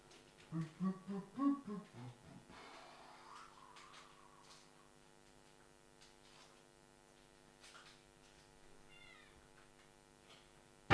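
A house cat meows in a rapid run of short, close, insistent calls, then goes quiet over a steady electrical hum with a few faint softer sounds.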